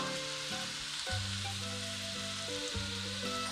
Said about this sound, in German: lasse es braten, bis das Fleisch die rote Farbe verloren hat